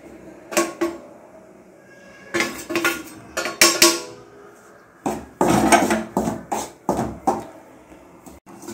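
Metal utensils clink and scrape against a pan while rice flour is dry-roasted for palm leaf kozhukattai, a Tirunelveli and Thoothukudi sweet, in irregular sharp clatters with short pauses between.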